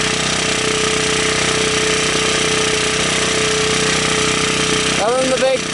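A cheap sub-$200 portable generator engine runs loud and steady in cold weather, a constant mechanical drone throughout with a brief burst of changing noise near the end.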